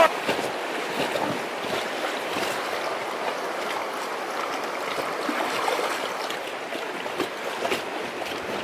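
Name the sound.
standing waves on the Noatak river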